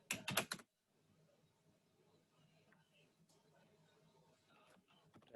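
A rapid burst of computer keyboard keystrokes at the start while entering commands on a server, then near silence with only faint scattered clicks.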